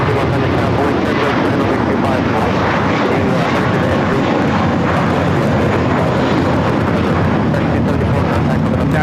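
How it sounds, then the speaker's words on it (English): An American Airlines A321 takes off, its jet engines roaring loud and steady from start to finish in a dense broadband rumble. "That is American Airlines 274 taking off to JFK on the A321"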